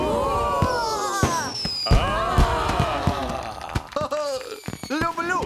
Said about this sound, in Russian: Люблю фейерверки!